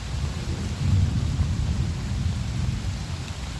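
A thunderstorm during an overnight outdoor camp: steady heavy rain with deep, rolling thunder rumbling continuously underneath, loud and close, with no voices.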